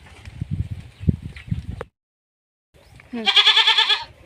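After a delivery, a goat and her newborn kid are close by. Soft low grunting sounds come first, then a brief silence, followed by a loud, clear wavering bleat near the end.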